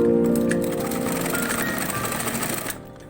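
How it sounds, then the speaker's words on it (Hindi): A sewing machine runs a steady, fast stitch along a blouse seam, joining two pieces with a line of top-stitching; the motor hum is loud and continuous, easing off slightly near the end with no talking. "सिलाई चला दूँगी एक बार ऊपर से ताकि मेरा अच्छे से बैठ जाए।"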